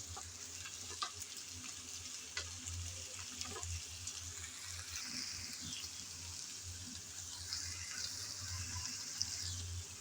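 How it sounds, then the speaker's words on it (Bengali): Ridge gourd and potato pieces fry in a pan with a little oil, giving a soft, steady sizzle with scattered light clicks and taps from stirring. "ঝিঙ্গেটা দিয়ে 3-4 মিনিট আমি ভালোভাবে আলুর সাথে ভেজে নিলাম"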